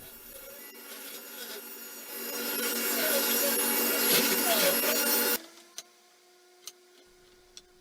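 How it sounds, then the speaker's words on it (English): A saw rips wooden boards to width for vanity legs in a loud, steady cut lasting about five seconds that builds and then stops abruptly, followed by a faint hum and a few sharp ticks. "I go ahead and cut them into 2¼ inch wide boards"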